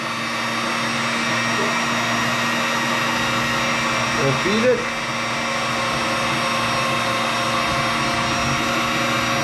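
An electric meat grinder hums steadily as it grinds marinated buffalo meat, a constant motor whine close by, with a short spoken remark midway.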